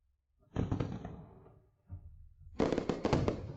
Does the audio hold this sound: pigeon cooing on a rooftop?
no